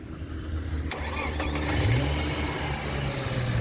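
A starter motor is jumped at the positive terminal, cranking the engine, which catches and settles into a steady idle, close and fairly loud.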